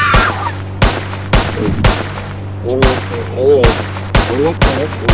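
Video game gunfire cracks out in sharp single shots, about nine spread irregularly, with a low steady hum and brief bird-like chirps between.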